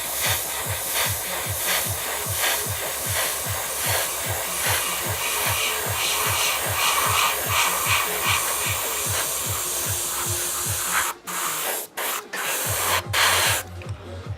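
Hataka Red Line spray paint is applied in another coat over a white-primed surface, a steady close hiss with rapid pulsing running continuously for about eleven seconds before breaking into short bursts and stops.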